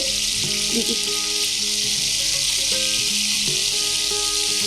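Salted ridge gourd pieces fry in a pan with a loud, steady sizzle close up, while low tonal sounds from a voice or kitchen run faintly underneath.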